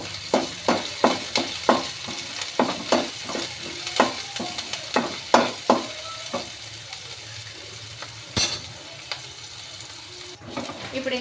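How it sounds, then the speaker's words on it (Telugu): Garlic and chopped capsicum frying in a pan for crispy corn, with a run of rhythmic scraping stirs over a light sizzle, then quieter frying with a few clatters, close up. "ఇవి 3 అయితే కొంచెం దోరగా ఫ్రై చేసుకోవాలి"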